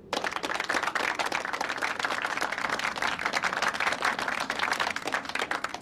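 Crowd applause in the video game Dreams, a dense, steady wash of many hands clapping that fills the whole stretch at an even, fairly loud level without pauses.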